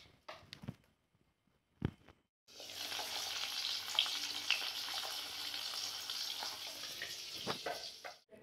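Marinated local pond fish sizzles in a hot kadai on a gas stove, a steady close frying hiss that starts after a few faint handling knocks and runs on with light spatter and clatter.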